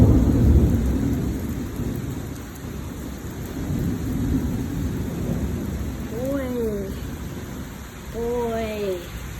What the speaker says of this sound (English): Today, got some big thunder.